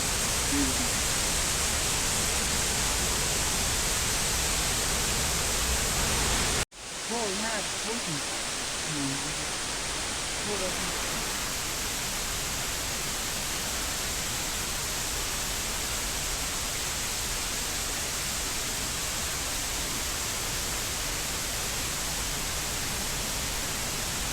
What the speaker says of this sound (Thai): น้ำตกข้าง